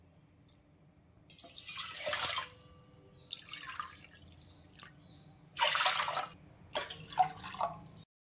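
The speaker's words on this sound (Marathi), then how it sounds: "ह्याच वाटीने आपल्याला आता सहा वाटी पाणी घ्यायचं आहे" Water for sabudana papad is measured into a pot by the bowlful, heard as separate close splashing pours of one to two seconds each with quiet pauses between them, about four in all, and nobody talking.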